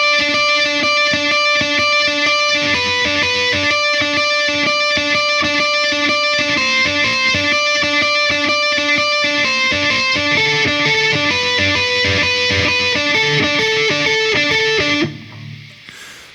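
A distorted electric guitar plays a lower harmony, alternating picked notes in a continuous, loud, close passage that cuts off abruptly near the end.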